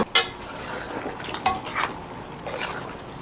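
Spoon stirring tender pork ribs coated in kaldereta sauce in a pot, with soft scrapes and clinks against the metal at an unhurried pace, quiet and close.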